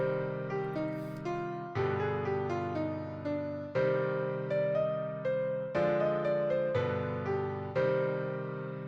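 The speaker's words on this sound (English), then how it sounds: "If I take the same example from before using the 2 chord and put it in a minor key" A chord progression in a minor key that uses the 2 chord to approach the 5 chord: five sustained chords ring out one after another at an even pace of roughly two seconds each, each decaying gently, with no talking.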